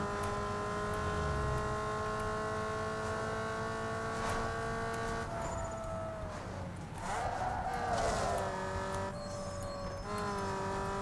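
Race cars in Need For Speed Underground 2 drag racing, steady layered engine drone with rising and falling revs and a gear shift partway through, loud and continuous with no talk.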